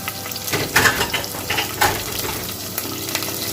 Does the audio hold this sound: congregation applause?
no